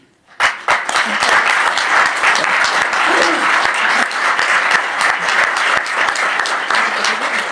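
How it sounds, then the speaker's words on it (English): Sudden audience applause in a conference hall at a European judiciary event, starting sharply and holding as a loud, steady, dense clapping with distinct individual claps standing out. "And I ask a round of applause for him."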